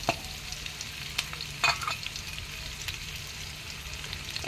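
Chopped onion and garlic frying in a pan with shrimp, a soft continuous sizzle broken by a few sharp stirring clinks and scrapes.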